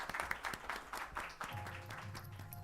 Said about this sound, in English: please give them a huge round of applause for making this documentary